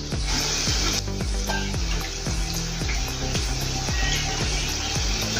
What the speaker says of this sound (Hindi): ये जो कचौरी है पहले इसमें डाला था अपने गरम तेल में